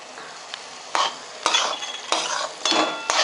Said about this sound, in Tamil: இந்த ரவை நல்லா வறுபட்டாச்சுன்னா